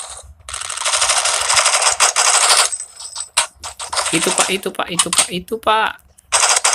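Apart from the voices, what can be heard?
gunfire in video game Forward Assault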